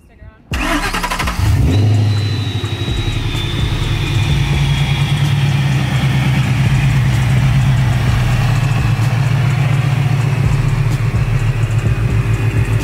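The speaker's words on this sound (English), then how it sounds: "I can never get enough of the Century blowers on these Coyotes, especially with that blow-off setup, the long tubes." A supercharged Ford Coyote V8 with a Century blower, blow-off setup and long-tube headers starts up with a sharp crank and settles into a loud, lumpy idle with a steady supercharger whine that runs the whole time.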